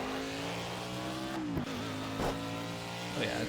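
Race car in Project CARS at Watkins Glen scraping the ground under a constant engine drone, with brief grinding scrapes at intervals over the steady roar.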